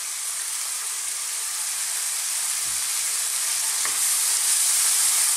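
Spice powders and cilantro fry in a pan over fairly high heat for an Indian dal, giving a steady, loud, even hiss of sizzling that carries on alone throughout, with a couple of faint stirring knocks.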